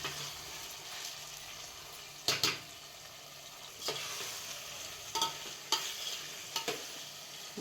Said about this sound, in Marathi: ह्यातनं परतू परतू घ्यायचं आहे आता ह्याच्यात शिजून घ्यायचं आहे